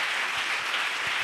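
A church congregation at a Pentecost service claps and applauds, a dense, continuous wash of hand claps filling the short moment without pause.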